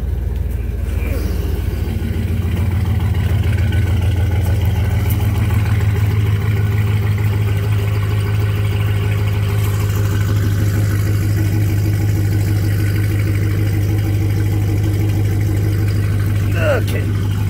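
The engine of a 1972 Oldsmobile Vista Cruiser station wagon idles loud and close with a steady low rumble, while voices talk over it.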